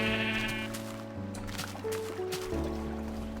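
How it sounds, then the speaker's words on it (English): Minecraft sheep bleating in a video game, several wavering bleats overlapping in quick succession, loud and close, with background music tones underneath and no talking. "Oh, perfect, there are sheep."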